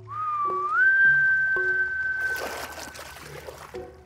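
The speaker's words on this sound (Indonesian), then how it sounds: "Bagaimana kalau coba bersiul?" A single long whistled tone rising then holding steady, fairly loud, followed by a burst of splashy, trickling noise.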